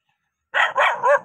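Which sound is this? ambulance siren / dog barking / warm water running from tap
dog barking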